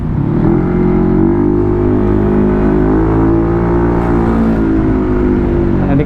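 A Yamaha NMAX scooter bored out to 65 mm and still being run in accelerates with a loud, close engine drone whose harmonic tone holds steady and then rises slightly, with no talk over it.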